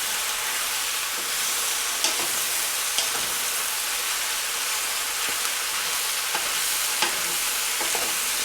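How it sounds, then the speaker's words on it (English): Sliced mushrooms and onions saute in butter in a pan, a steady close sizzle broken every second or so by the scrape and clack of a utensil stirring them. "So what we'll want to do is saute these and just keep kind of giving them a stir."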